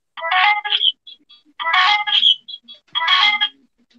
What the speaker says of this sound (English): someone's phone is going off, and it's not mine